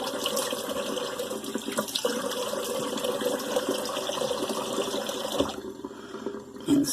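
Cold tap water runs steadily into a bathroom sink for a face rinse after a candlelit shave, a continuous close splashing wash that thins out near the end.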